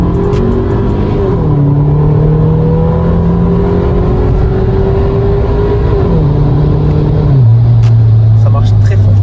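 A car engine revs and pulls hard, its pitch climbing through gear changes, loud and close, with people talking over it; a quick car doing 0 to 100 km/h in about 5 seconds.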